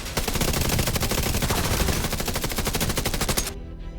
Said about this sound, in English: Shooting.